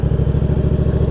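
A motorcycle engine runs close by with a steady, pulsing throb, loud and alone, as a little throttle is applied during a beginner's uphill start.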